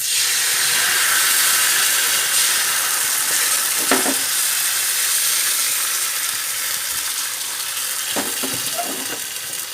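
Aloo dosa frying in oil on a pan makes a loud continuous sizzle and hiss with no voices, with two brief clatters of utensil movement.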